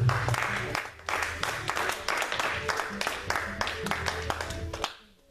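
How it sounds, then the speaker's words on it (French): A church congregation applauds to acclaim the word of God, with steady dense clapping from many hands for about five seconds, loud and close, and voices mixed in before it stops abruptly. "Est-ce qu'on peut acclamer la parole de Dieu?"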